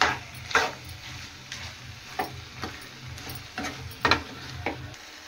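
Farm chicken gongura curry with chili powder being stirred in a pan: a low constant sizzle beneath a handful of sharp scraping and clinking strokes spaced irregularly, close and fairly quiet.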